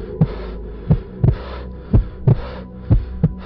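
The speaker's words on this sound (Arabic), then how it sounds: "نبضات قلبي زادت" A heartbeat sound effect with a steady double-thump rhythm, about seven deep, close beats in a row over a low hum.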